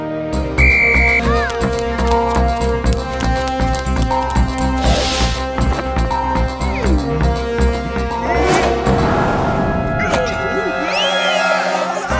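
A whistle blown to start a game in a kids' cartoon gives a short, clear tone among busy music and crowd noise, and a crash follows later.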